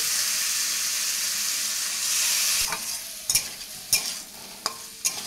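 Lightly fried ridge gourd stirred into a pan of frying spiced paste, a loud steady hiss that gives way to several sharp spatula scrapes and clinks against the pan.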